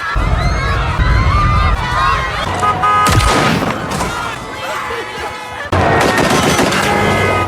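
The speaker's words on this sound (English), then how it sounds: "Jennifer tried to thwart the attempt by shooting several Yanil members" Rapid bursts of gunfire ring out during a movie shootout in which a former special forces mother fires on cartel members trying to kidnap her daughter, loud and dense, with sharp cracks over a rumbling action score.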